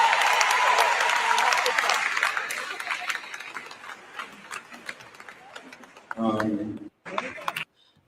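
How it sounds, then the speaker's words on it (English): Children in a corner clap together, a dense wash of applause that starts strong and gradually thins out; voices then break in near the end. "Look at the kids in the corner clapping."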